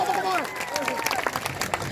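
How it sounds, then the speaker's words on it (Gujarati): Crowd applauding Chaitar Vasava at a Parivartan Yatra rally, a burst of clapping and cheering that swells under a man's amplified speech and continues as scattered claps and crowd noise. "તાળીઓથી વધાવો ચેતરભાઈ વસાવાને"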